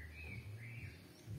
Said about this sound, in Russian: слушать птиц